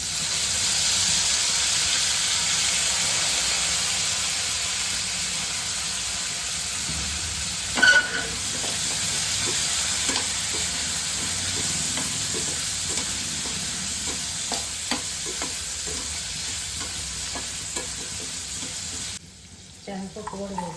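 Brinjal pieces fry in a hot pan with curry leaves and coriander, producing a continuous close sizzle and hiss broken by occasional scraping stirs and clinks, then fading sharply at the end.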